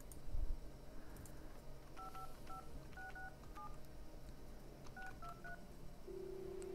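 A telephone number is dialed on a keypad, two quick bursts of touch-tone beeps separated by a pause, then a steady tone near the end over faint background hiss.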